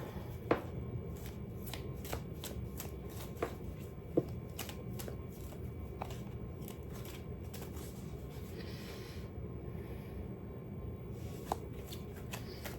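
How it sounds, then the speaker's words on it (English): Tarot cards are shuffled and flipped close by, a steady papery riffle with sharp snaps of single cards at irregular moments and no voices. "These cards are all like flipping"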